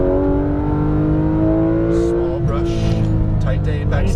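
A Porsche 911 GT3 RS accelerates hard around a race track, its engine a loud, steady high-revving roar held close throughout, with a driving instructor's voice speaking over it.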